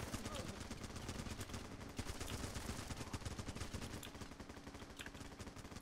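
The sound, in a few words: gunfire in Running with Rifles video game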